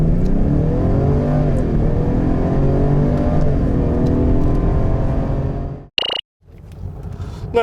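Lincoln Aviator SUV pulling through a full-throttle acceleration test, its engine revving loudly and rising through the gears for about six seconds before a sharp cutoff, then quieter cabin road noise.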